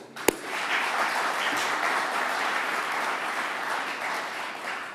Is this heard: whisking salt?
no